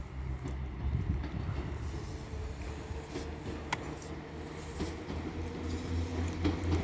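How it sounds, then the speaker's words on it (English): A Northern passenger service to Leeds pulls out of York station, its low engine rumble and rolling wheel noise steady and fairly distant, with a few faint clicks and station ambience. "So now departing is the 1308 Northern Service to Leeds"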